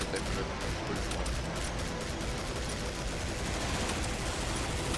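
A Gatling gun fires continuously in the Killing Floor video game, a dense, unbroken stream of rapid shots at steady volume, with voices talking over it.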